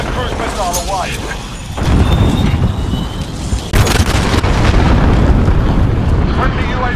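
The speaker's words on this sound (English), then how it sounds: "Allied cruise missile away." Cruise missile strike detonating in Call of Duty Modern Warfare online play, heavy booming blasts with a sharp second impact near four seconds, followed by sustained rumbling debris and gunfire, loud and close, with faint radio-style voice chatter.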